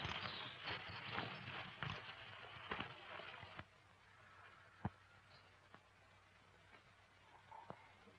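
Hooves clip-clop on hard ground, a quick cluster of beats at first, then sparse, fainter steps over a quiet outdoor background.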